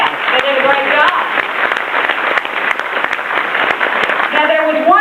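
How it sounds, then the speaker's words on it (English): An audience at a comedy roast gives the roasters a round of applause, steady clapping filling the room while a voice talks over it. "Don't they deserve a round of applause?"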